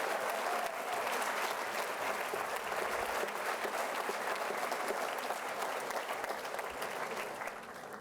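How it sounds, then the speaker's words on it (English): Sustained, dense applause from a school convocation crowd cheering the 2023 class, loud and steady throughout before easing slightly at the very end. "Let's get a round of applause for the 2023 class."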